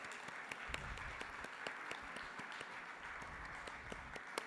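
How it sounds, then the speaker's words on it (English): An audience claps for a speaker at an international keynote event on women's empowerment and education, with steady, dense applause continuing evenly throughout at moderate volume. "A big round of applause."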